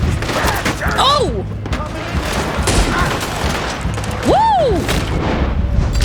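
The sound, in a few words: gunshots in video game Red Dead Redemption II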